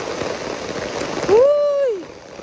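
Steady rain in Davao patters as a broadband hiss throughout, with a brief tonal whine or call rising briefly over it partway through; no speech.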